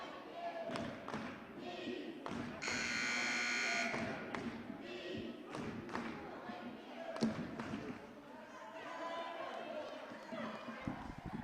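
A long electronic buzzer blares for about a second during a high school varsity men's basketball game in a gym, over sneaker squeaks, ball thumps, crowd noise and a commentator talking.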